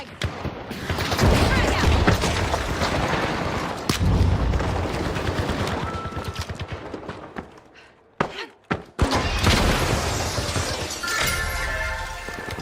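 A frag grenade goes off amid heavy gunfire in The Finals, with loud sustained bursts of shooting and blasts. The noise drops to near silence briefly, then a sharp explosive hit lands and the din resumes.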